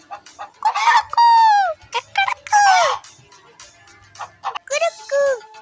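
A hen squawks and clucks loudly in a few short, close bursts separated by brief pauses.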